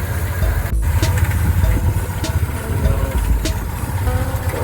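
A Dodge B1500 van's engine runs steadily with a coolant leak, producing a continuous low rumble and idle throughout, with faint clicks and rattles close by.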